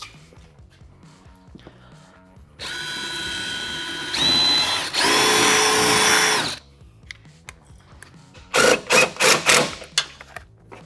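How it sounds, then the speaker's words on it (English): A power drill with a 1/4-inch bit whines in two sustained runs, then several short, sharp bursts of drilling follow, close and loud over quiet background, during a front bumper install on a Chevy Colorado ZR2. "we're gonna use our same 1/4 inch drill bit and drill that hole"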